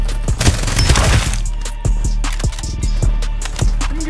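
Gunfire in the Farlight 84 battle game comes as rapid, sharp shots, a dense burst early and then scattered single cracks and short volleys, loud and close.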